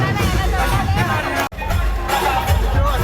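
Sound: crowd chatter at a haldi ceremony

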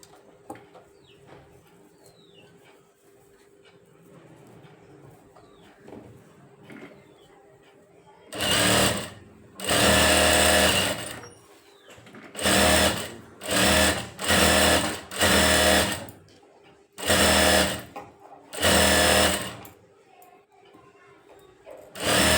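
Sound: sewing machine stitching around a blouse lining

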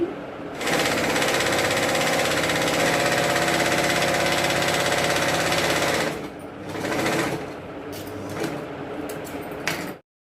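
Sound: sewing machine stitching a designer blouse

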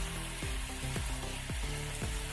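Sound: sautéing and stirring singara filling in a pan

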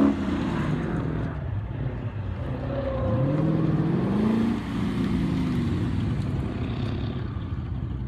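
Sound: Corvette sports car driving at autocross

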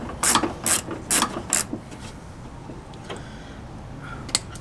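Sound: deep socket ratchet undoing a Land Cruiser body mount bolt

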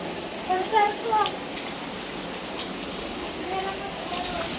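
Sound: rain falling

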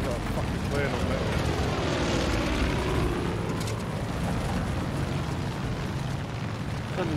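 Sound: airplane engine in video game Far Cry 5

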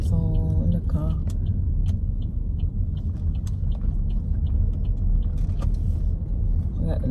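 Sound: car driving on the road

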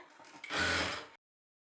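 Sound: sewing machine stitching a princess cut blouse

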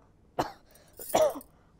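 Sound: cough

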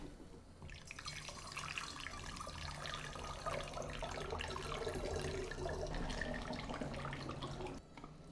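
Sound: warm water running from sink tap

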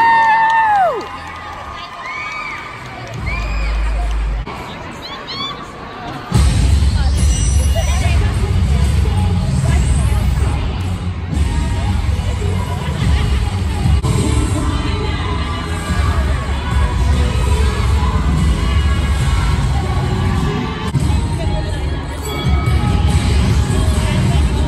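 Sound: crowd cheering for a cheerleading team at a competition

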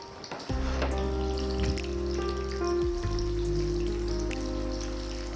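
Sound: frying manda patti spring roll wrappers

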